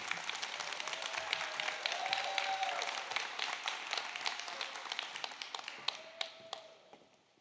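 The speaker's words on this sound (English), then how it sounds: "let's give ourselves a round of applause" An adult school's graduating class of 2024 claps in a thick, lively burst that thins into scattered individual claps and fades out near the end.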